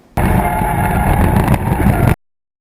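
A Mazda RX7 (FB model) being drifted gives a loud, close, unbroken roar of engine and tyre noise that lasts about two seconds and then cuts off abruptly.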